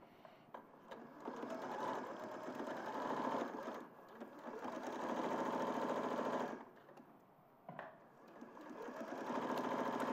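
A sewing machine runs a 5/8 inch seam across the top of joined pattern pieces in cotton canvas-like fabric, humming steadily in long bursts with brief pauses between runs.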